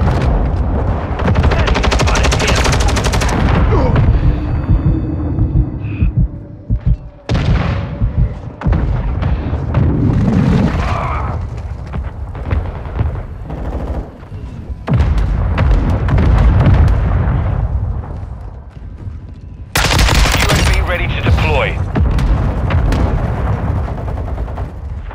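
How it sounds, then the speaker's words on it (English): Call of Duty Modern Warfare 2 Team Deathmatch battle noise: heavy booming mortar-strike explosions mixed with sustained machine-gun and rifle fire, loud and close, with brief lulls before another sharp burst. "Hostile mortar strike near your position."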